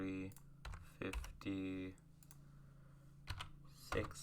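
Number keys clacking on a computer keyboard in short clustered bursts of typing, with someone speaking between and over the keystrokes.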